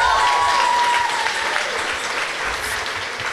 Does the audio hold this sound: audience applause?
yes